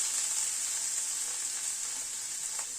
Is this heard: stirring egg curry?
yes